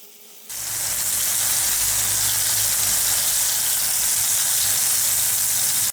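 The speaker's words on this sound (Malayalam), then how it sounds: "ഓയിൽ ചൂടായതിന് ശേഷം നമുക്കിതിലേക്ക് വഴുതനങ്ങ ഓരോന്നായിട്ട് ഇട്ട് കൊടുക്കാം." After a brief quiet moment, brinjal slices hit hot oil and a loud, continuous sizzle of frying takes over.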